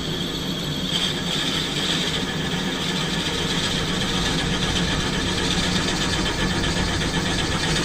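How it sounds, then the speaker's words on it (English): A drill bores into a wooden tobacco pipe, a steady continuous mechanical drone with a constant whirring hum, close and unbroken, no talking. "I'll use the measurements on my quill to know when I have drilled to 1 inch"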